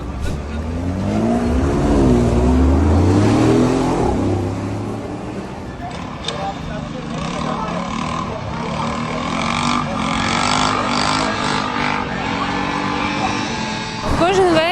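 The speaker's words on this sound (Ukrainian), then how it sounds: "машини, що під час їзди видають надто гучні звуки" A car with an excessively loud exhaust drives on a riverside embankment road in Dnipro, its engine revving and rising in pitch before settling into a steady roar with passing noise.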